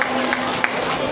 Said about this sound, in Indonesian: Tepuk tangan untuk Farzan